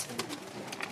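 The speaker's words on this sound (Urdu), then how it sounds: "برہرہ بھائی آپ کو ذرا اندر سے جا کے جو ہے نا جال کے اندر جا کے اوور آل کبوتر دکھاتے ہیں" Pigeons cooing in a rooftop loft, several short soft coos close by in quick succession with no talk.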